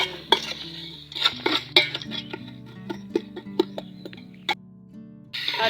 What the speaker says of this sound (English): I put in fire. Then I keep on stirring.